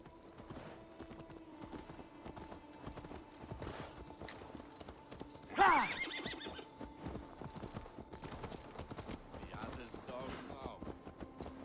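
In Assassin's Creed Valhalla, a horse gives one loud whinny partway through while its hooves clip-clop in a steady rhythm, with speech heard throughout.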